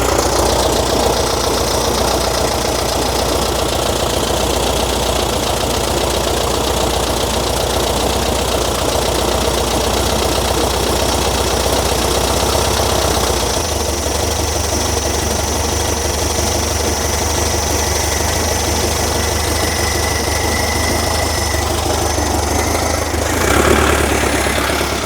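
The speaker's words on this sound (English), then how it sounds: "I don't like the carb. It has a really, really dumb low idle." A VW Karmann Ghia engine with a carburetor and an unusually low idle runs loud and close for a long stretch, a dense steady drone with a rough knocking beat and a slight shift in tone partway through.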